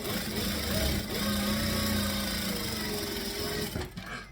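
A sewing machine runs steadily and fairly loud up close, stitching a bag seam forward and then back-stitching, as one continuous mechanical whir that breaks off near the end, with no talking.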